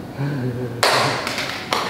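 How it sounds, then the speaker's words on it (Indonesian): An audience at a talk on artificial intelligence in public-interest media in Indonesia breaks into brief applause right after a speaker's voice, with a burst of close clapping that fades and then swells again. "Tepuk tangan."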